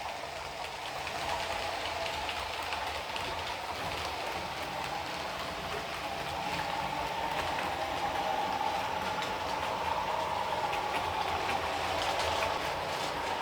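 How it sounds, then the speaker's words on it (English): Model diesel locomotive rumbling steadily along its track, a continuous broadband running noise with a mid-range hum that grows slightly louder as it approaches, no voices. "You can sort of hear it rumbling along on the diesel now."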